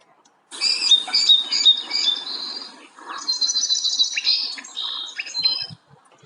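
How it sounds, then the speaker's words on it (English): Bright, busy chirping from a sparrow, rapid high notes in two bursts with a short pause between, close and clear with no talking. "This is what a sparrow sounds like."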